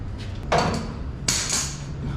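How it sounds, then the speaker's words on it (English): Hammer blows on sheet metal from a 1948 Chevrolet 5-window pickup being flattened: two sharp, ringing strikes about a second apart, close and fairly loud over a steady workshop hum. "Maybe grab 2 hammers. Try to get these to be flat again."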